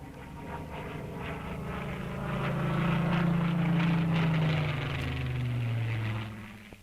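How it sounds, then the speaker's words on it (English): A Supermarine Spitfire fighter plane's engine drones in a steady, swelling roar that builds to a peak and slowly fades, with a shifting pitch as the aircraft passes. "the average Britisher knew and welcomed the Spitfire sound"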